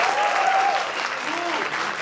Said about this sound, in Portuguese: Eu queria uma salva de palmas para finalizar